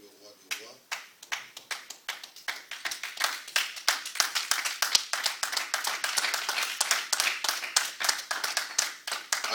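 A church congregation claps in a steady, quickening rhythm, the sharp hand claps loud and close and building in density, with voices faintly underneath.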